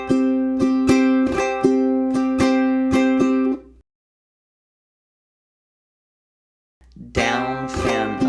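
Strummed guitar measure in a fingerpicking etude, playing a down, fan and up strum pattern: repeated bright chord strokes in steady rhythm for about four seconds, then silence, then strumming resumes near and loud.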